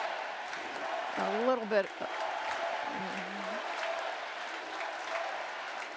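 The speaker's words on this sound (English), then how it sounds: "this crowd is going a little wild over Marcus Luttrell" A Republican National Convention crowd cheers and applauds in a steady, broad roar that fills the whole stretch, while someone speaks briefly over it.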